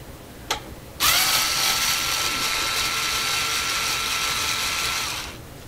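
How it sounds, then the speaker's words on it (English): A power screwdriver whirs steadily for about four seconds while backing out the last outside screw of a Traynor 8/201 analog mixer, preceded by a brief click, close and loud with no talk. "wonderful power screwdriver and make quick work of this. Last outside screw."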